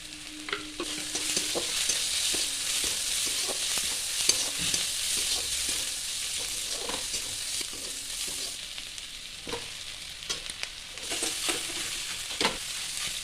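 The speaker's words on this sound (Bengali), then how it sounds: "কড়াইয়ের মধ্যে তেল দিয়ে তার মধ্যে রসুন বাটা, পেঁয়াজ কুচি, লঙ্কা কুচি দিয়ে একটু নাড়াচাড়া করে নিতে হবে" Garlic paste, chopped onion and green chili frying in oil in a wok, a steady close sizzle broken by irregular scraping clicks of a spatula stirring through the whole stretch, with no talking.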